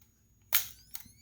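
Konica Auto S camera flash firing with a sharp snap, then a second click, while a thin, high recharging whine runs faintly underneath. Close and quiet, with no voices.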